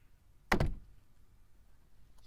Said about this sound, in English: Get this door open.